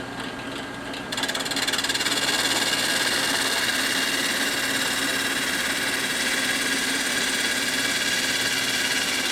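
Close, steady grinding hiss and motor hum of a coarse-grit sanding drum on a drill press working a stave drum shell, quieter for the first second and then loud and continuous.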